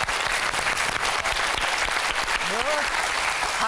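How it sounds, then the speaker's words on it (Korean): Studio audience on a Korean television talk show applauds steadily and loudly for several seconds in a dense, continuous wash of clapping, with a brief voice heard underneath. "박수 주시죠."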